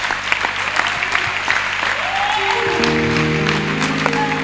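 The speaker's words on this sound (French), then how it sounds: "Acclamons pour lui" An audience at a youth camp session claps in a steady, dense burst of applause, with a sustained musical tone rising beneath it partway through.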